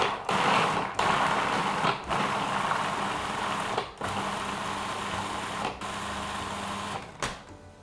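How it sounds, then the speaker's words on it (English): Food processor pulsing half a kilo of fresh cranberries with ginger and chili for a Christmas sauce, about six loud whirring bursts of blade and motor noise, each cut off abruptly by a brief pause. "And then I'm just gonna pulse it together."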